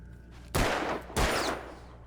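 Two loud gunshots ring out in Alan Wake, about half a second apart, each a sharp broadband crack with a short decaying tail, over a low game ambience and no talk.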